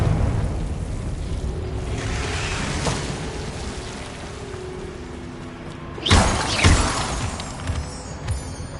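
A Confringo fire spell from Hogwarts Legacy bursts with a sharp, crackling blast near the end, set against a steady rumbling ambience, with a second smaller burst following.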